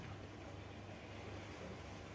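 Ocean waves roll as a sound effect in a stage play, a dense, steady wash of surf and wind-like noise filling the short moment without pause.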